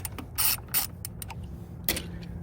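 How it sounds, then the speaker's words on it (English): A stubby ratchet loosening the battery hold-down clamp bolt on a Ford 7.3L F250/F350 pickup, a few short close clicking and whirring bursts separated by quiet gaps. "I'm going to use a little stubby ratchet"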